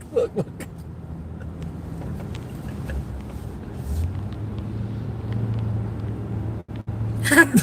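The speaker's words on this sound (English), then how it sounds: "That car does sound like it. I'm sorry, but it does sound like it's gonna fall apart." An old car engine rumbles low and uneven, sounding ready to fall apart, a steady throaty drone that swells midway, with a few clicks and brief dropouts near the end.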